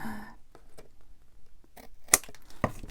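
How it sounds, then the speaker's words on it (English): A few crisp snips of scissors cutting collage paper, close up, with soft rustling and handling noises between the cuts. "going to try and cut it with my scissors"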